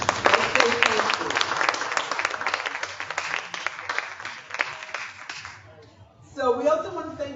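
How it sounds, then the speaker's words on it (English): An audience at an open mic night in New Haven claps steadily for several seconds, then the applause fades out and a voice starts talking. "They deserve an applause."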